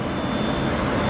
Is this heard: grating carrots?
no